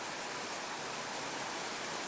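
Water rushes steadily through a small sluice below a headgate on Pine Creek in San Isabel National Forest, a constant broadband hiss with no breaks, fairly faint and alone.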